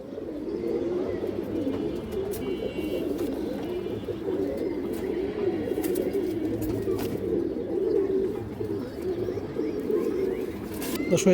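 Pigeons coo steadily and repeatedly, close by, with soft overlapping calls filling the whole stretch and faint rustling in the background.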